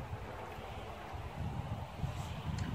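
Steady wind buffets the microphone outdoors in Moncton, Canada, a low rumbling gusty roar that swells slightly toward the end, with no voices.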